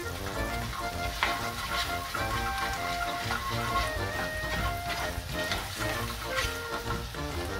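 Shallot and garlic frying in a pan, stirred with a wooden spoon, producing a steady close sizzle with spattering crackles and stirring scrapes, fairly loud and without talk.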